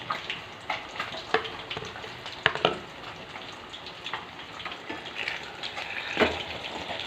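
Quail egg curry being stirred in a pan, seasoned with salt and chili powder, giving soft wet scraping and gentle sizzling with a few sharper spoon knocks against the pan, steady and close, with no voices.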